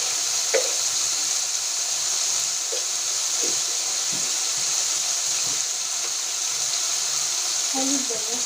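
Shrimp curry masala hissing and sizzling steadily in hot oil in a village-style Bengali kitchen, a continuous frying bed with a few faint knocks and clinks scattered through.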